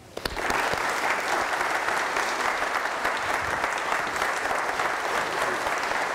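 An audience at an Episcopal Day School eighth-grade graduation breaks into warm, sustained applause for a returning alumnus speaker, starting with a few claps and swelling to a steady, full ovation lasting several seconds.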